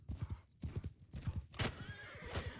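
Horse galloping in the video game Mount & Blade 2 Bannerlord, rapid rhythmic hoofbeats close by with a sharp whinny partway through, moderately loud and with no talk.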